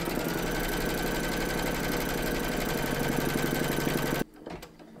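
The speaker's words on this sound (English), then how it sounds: "Then pop your hoop into your machine and stitch round number 1" An embroidery machine stitches a placement outline on a quilt block hoop, its steady, rapid mechanical rhythm running loud and close for about four seconds before stopping abruptly.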